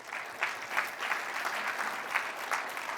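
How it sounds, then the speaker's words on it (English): Audience applause at a city State of the City address, a steady wash of many hands clapping with a few louder bursts, filling the short stretch without voices. "Big round of applause."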